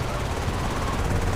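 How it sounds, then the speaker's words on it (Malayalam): Police helicopter in the game GTA Vice City during a six-star wanted level chase: a steady, dense rotor and engine drone fills the whole short stretch at an even, fairly loud level with no pauses. "സൈഡിൽ ഹെലികോപ്റ്ററൊക്കെ ഉണ്ട്."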